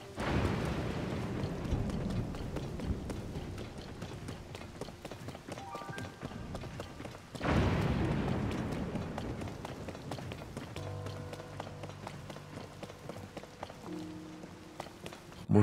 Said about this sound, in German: Muss es denn jetzt gewittern?